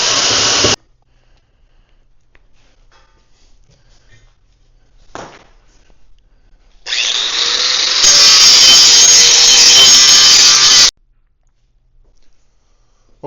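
A power saw blade cuts through trailer material, likely angle iron, for a 3500 lb capacity 5x10 trailer build; a short burst, then a loud sustained grinding cut lasting about four seconds before stopping abruptly.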